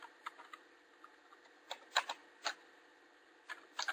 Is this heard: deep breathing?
no